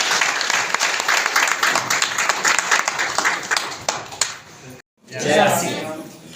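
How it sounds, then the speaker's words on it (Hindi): An audience at a gathering in Thalisain applauds steadily as Ganesh Rawat from Uttarkashi is welcomed. Dense, close clapping runs for several seconds, breaks off briefly into silence, then swells again with a voice entering over it. "मैं जोरदार तालियों के बीच स्वागत करूंगा गणेश रावत सर का, जो उत्तरकाशी से आए हैं।"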